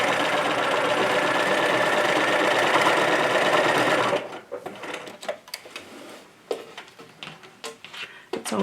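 Sewing machine stitching an apron made from old denim jeans, a loud steady mechanical whirring for about four seconds, then stopping into quieter clicks, handling noises and brief knocks.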